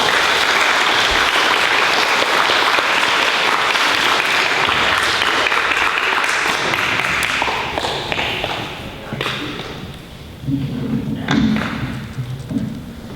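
A crowd applauds teachers at a 5th grade recognition day ceremony, loud dense clapping that thins out after several seconds into scattered claps, thuds and shuffling, with faint voices underneath.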